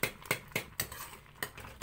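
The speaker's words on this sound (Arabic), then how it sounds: "نقلبها كده تقليبه حلوه جميله جميله" Okra being stirred in a cooking pot for a Upper Egyptian okra dish, a spoon clinking and scraping against the pot in several quick, separate knocks amid otherwise quiet kitchen surroundings.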